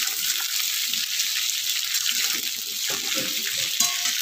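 Vegetables for an everyday dal-and-vegetable dish frying in a pan, with a steady close hiss and scraping stirring throughout, sizzling evenly and loudly, with no talk.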